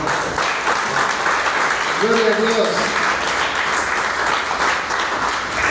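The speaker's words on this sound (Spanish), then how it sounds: "Denle un aplauso al Señor" Congregational applause for the Lord during a church sermon, a broad steady wash of clapping with a brief voice speaking over it partway through.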